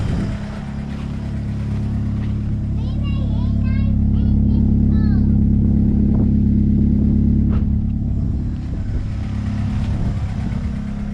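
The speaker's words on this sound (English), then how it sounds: "Nice clean idle." Honda EK coupe engine idling, a steady low rumble close by that holds evenly throughout, with faint chirping sounds and a few small clicks over it.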